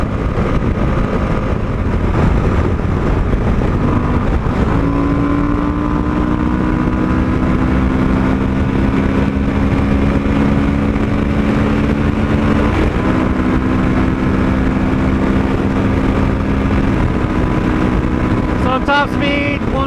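A 2021 Suzuki V-Strom 1050XT motorcycle runs at high speed, its steady engine drone buried under heavy, constant wind roar at the microphone, with a small pitch shift partway through.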